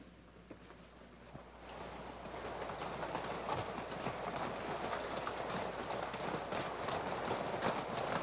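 A train runs steadily in a mid-century Western setting, with a continuous rumbling clatter of wheels on rails. It starts quieter and grows fuller after the first couple of seconds, with no one talking.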